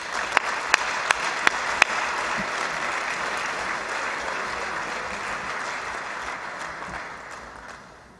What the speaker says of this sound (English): Big round of applause for Father Wilford.